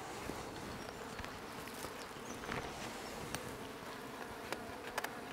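Honey bees buzzing around a nucleus colony hive after being smoked, a steady dense hum with a few individual bees zipping close past, no voices.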